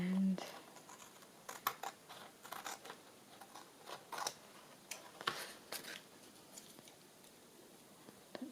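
Scissors snipping through book pages for glued journaling, making small, close, faint cuts and clicks that come in irregular bursts over a quiet room.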